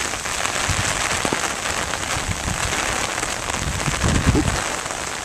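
Steady rain falls outdoors during a walk, a dense, continuous hiss of drops on surfaces, fairly loud and close, with a few faint low thumps and no voices.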